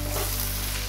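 Onions and vegetables fry in a hot pan for an Andhra green fish curry, a steady close sizzle that runs loud and even through the whole second, with no talking.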